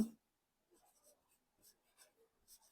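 A pen scratches across paper in short, faint bursts separated by quiet gaps, with no talk.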